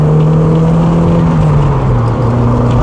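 An MG TF 160 engine revs hard close by, a loud sustained drone whose pitch holds and then dips slightly as the revs ease, with no talk over it.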